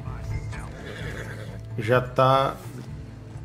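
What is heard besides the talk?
horse neighing and hooves in the video game Red Dead Redemption 2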